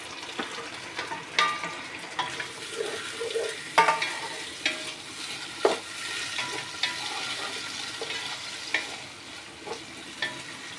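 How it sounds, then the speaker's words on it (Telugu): Tomatoes sizzle in a pan with browned onion and ginger-garlic paste, a steady close frying hiss broken by repeated scraping clicks of a spoon stirring, with no talking. "టమాటోస్ బాగా ఒక 2 to 3 minutes మగ్గాలి"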